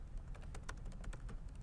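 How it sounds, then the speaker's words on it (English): Fingers type quickly on a computer keyboard, a close, steady patter of light key clicks with no voices. "I'm not very good at typing."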